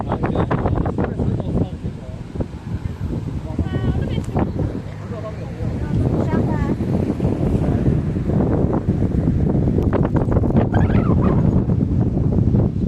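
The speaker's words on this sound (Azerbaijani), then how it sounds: "Dəhşət dərəcədə külək var." Strong wind blows at the entrance to Richmond Park in London, buffeting with a low, rough rumble under steady talking.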